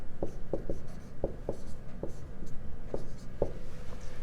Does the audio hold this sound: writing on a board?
yes